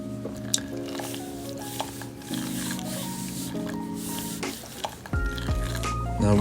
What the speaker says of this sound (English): Now we pour the water.